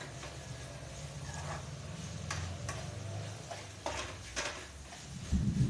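Ingredients being stirred and sautéed in a pan give a soft sizzle under light scraping and several sharp spoon taps against the metal, fairly close and fairly quiet, with no talk.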